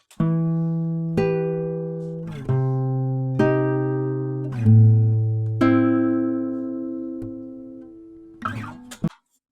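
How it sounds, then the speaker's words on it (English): Unprocessed electric guitar notes, each plucked and left to ring out in turn, a steady sequence of single sustained tones with a quick strum at the end. "So the sound is raw recording of a guitar"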